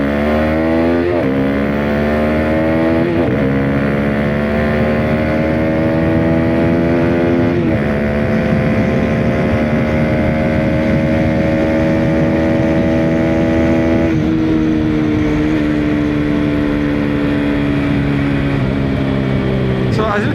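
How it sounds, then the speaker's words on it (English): A Hero Xpulse 210 motorcycle revs hard through several gears, engine pitch climbing in rising sweeps with brief drops at each shift, loud and close with wind rush throughout. "Let's do an acceleration test."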